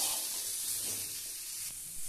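Tomatoes with salt cooking over a low flame in a pan, a soft steady sizzle and hiss with faint stirring, close and quiet.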